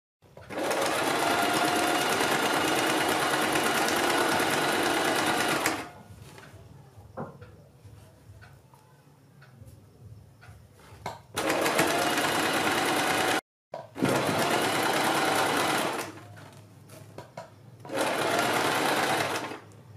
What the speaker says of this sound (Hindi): यहाँ से सिलाई लगानी शुरू करेंगे।